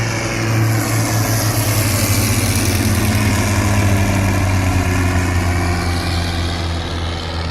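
A Sopwith Snipe biplane's Bentley rotary engine runs steadily at an airshow, a loud, constant low droning hum with a buzzing vibration that holds through the whole stretch.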